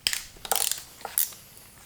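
Ratchet working loose 10mm ground bolts on a Miata engine wiring harness, giving a few short metallic clicking bursts close up with quiet gaps between.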